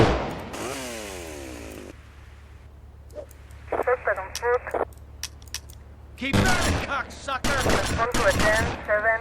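Gunfire in a remastered mod of GTA Vice City, with the player shooting in water. Sharp, loud bursts of rapid shots cluster toward the end over a low game hum, after quieter synthetic tones.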